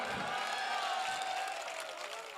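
A crowd at a Hindi comic poetry recital claps and cheers in a dense, sustained wash of applause. The sound is fairly quiet and steady and eases slightly toward the end.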